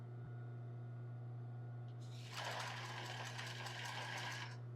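After a quiet pause, a sewing machine starts stitching an embroidered tulle bra, running as a steady close whirring rattle for about two seconds before stopping.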